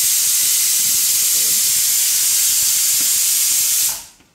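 A pressure cooker cooking green peas vents a loud, steady steam hiss on its own for about four seconds, then cuts off abruptly.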